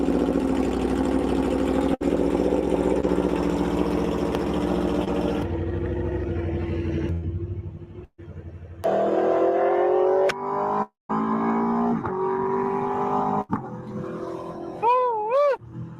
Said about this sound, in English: It feels good to be back on one of my favorite bikes, the Aprilia X Trenta.